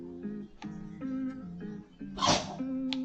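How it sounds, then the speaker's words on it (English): A dog named Lily sneezes once, a sudden sharp burst near the end, standing out over a low steady hum and tonal background sound in a quiet room. "my dog just sneezed"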